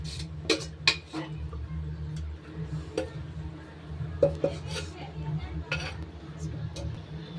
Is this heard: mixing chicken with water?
yes